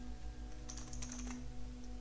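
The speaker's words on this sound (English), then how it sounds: "you can go ahead and save it by hitting Ctrl S on your keyboard" A short cluster of crisp key clicks on a computer keyboard as Ctrl and S are pressed, faint and close, over a constant electrical hum.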